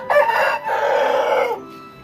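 A chicken rooster recovering from illness crows nearby, one loud, drawn-out call lasting over a second before trailing off.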